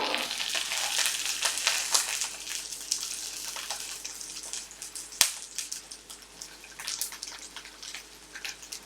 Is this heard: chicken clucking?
no